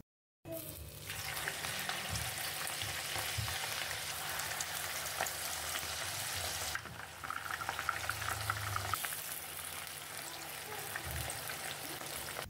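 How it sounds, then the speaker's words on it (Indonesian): Oyster mushroom fritters deep-frying in hot oil, a dense, continuous close sizzle and bubbling that stays loud and even throughout, with occasional softer utensil movements and no talking. "Dan goreng semuanya sampai selesai."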